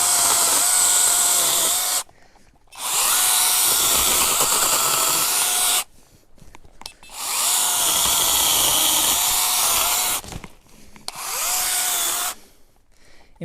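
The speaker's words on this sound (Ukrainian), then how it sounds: "ще будемо різати трошки мілкі віточки, сучки" A cordless AVANT PRO 2022 pruning saw whines loudly in three long cutting runs through small twigs and branches, with short quiet pauses between them, close and continuous, with no talk.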